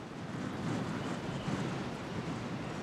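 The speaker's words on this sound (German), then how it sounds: "Der Wind wird zum Sturm." Strong stormy wind sweeps along the Baltic coast near Lübeck and the Darß, a loud, continuous roaring rush buffeting the microphone, with surf churning beneath it.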